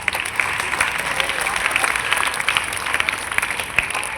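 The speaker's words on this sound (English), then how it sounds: "Children, please stand up and please give them an applause." Schoolchildren in an assembly clap together for student winners, a steady dense patter of many small hands filling the hall throughout.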